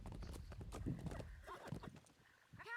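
Horse hooves clip-clop in a steady rhythm with a neigh rising over them, from a mounted horse in the medieval combat game Chivalry 2; faint voices talk underneath.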